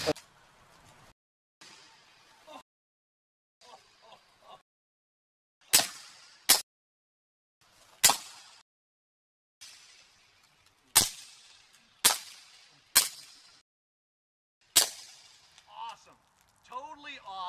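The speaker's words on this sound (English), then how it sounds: "Now we're shooting the Glock 19 with the AAC Ti-Rant 9. Let's see what it does to the soda bottle" A suppressed Glock 19 fitted with an AAC Ti-Rant 9 fires at a soda bottle, about nine sharp muffled shots spaced a second or two apart. Each shot has a crack of impact and some splashing, with quiet moments and faint talk between them.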